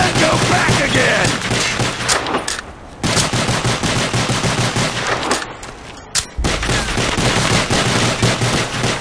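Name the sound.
gunfire shooting in a video game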